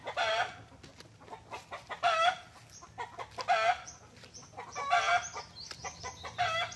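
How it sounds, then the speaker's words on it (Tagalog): Chickens clucking nearby on a farm, with repeated rooster crows rising every second or so over a busy flock. "Puro siya may mga alagang manok, guys."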